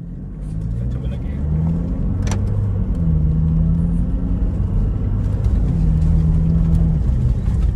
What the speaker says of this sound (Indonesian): kita tes ngebut lagi nih